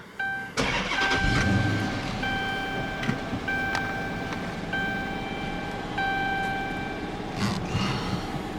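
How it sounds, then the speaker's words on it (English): A 2013 Dodge Charger Police Pursuit with a 5.7 HEMI V8 cranks and fires up close by. It settles into a steady, smooth idle with a few faint clicks, and no one speaks. "Let's go ahead and fire her up."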